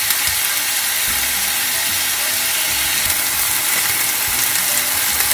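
Chicken pieces searing in a frying pan over medium heat, a steady loud hiss and crackle of sizzling oil that continues evenly throughout with no talking.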